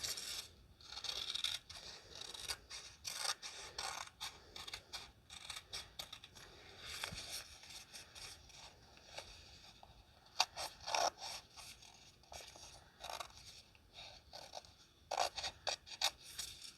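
Scissors cut through a sheet of paper folded in half, following the crease in a quiet, close run of crisp snips and scraping paper sounds.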